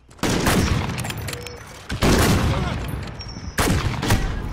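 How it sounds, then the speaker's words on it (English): Three loud gunshots in a sniping video game, each a sharp blast with a long ringing tail, spaced about two seconds apart with faint voice chatter between them. "I literally shot you"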